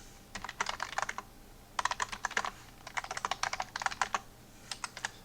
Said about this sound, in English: I'm going to be typing 2 E's this whole dang time.